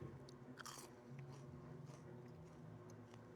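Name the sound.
crunching on truffle fries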